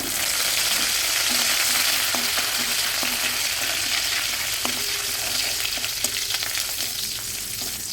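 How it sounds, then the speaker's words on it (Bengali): Curry leaves crackle in hot oil left from frying potatoes and pumpkin, a loud dense sizzle broken by light spoon taps and stirring clinks, with no speech. "যে তেল রয়েছে এই তেলের মধ্যে দিয়ে দেব কারি পাতা"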